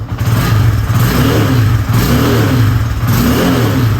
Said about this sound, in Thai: เดี๋ยวลองเบิ้ลกันสักหน่อยนึงนะครับ